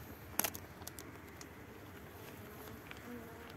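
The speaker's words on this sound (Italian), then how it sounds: "Le api giustamente si incazzano" Honey bees buzz around an opened beehive during a winter check of stores, a faint, steady, hovering drone with a few brief closer passes and light taps near the start.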